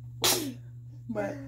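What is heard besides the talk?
sneeze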